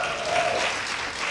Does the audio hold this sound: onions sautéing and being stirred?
no